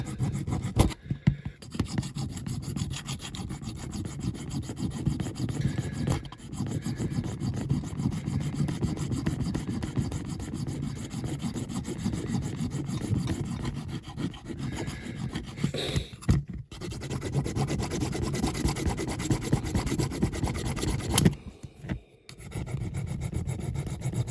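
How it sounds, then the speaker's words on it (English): Close, rhythmic rasping of sandpaper rubbing back and forth on a Corgi die-cast model Mercedes ambulance body, continuous with a few short pauses. "So I'm going to carry on sanding it all down so it looks nice and tidy"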